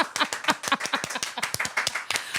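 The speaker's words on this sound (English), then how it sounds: "Oh, do I hear a round of an applause?" A round of applause from a small group, with quick overlapping hand claps in an uneven, lively rhythm, close and moderately loud.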